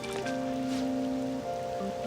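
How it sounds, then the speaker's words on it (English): Steady rain falls in the Persona 5 video game, a constant soft hiss filling the background while sustained musical tones drone on top, with no talk. "I feel so down when it's raining."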